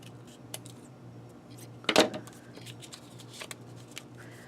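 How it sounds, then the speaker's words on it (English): A single brisk snip of scissors trimming the paper pages of a handmade tag mini book, one short crisp cut standing out against a quiet room with faint rustling of paper. "So you can just trim those with your scissors"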